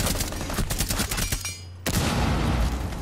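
Rapid gunfire in the Terrorist Hunt game mode, loud automatic bursts close by with a brief pause before another heavy volley, alone without talking.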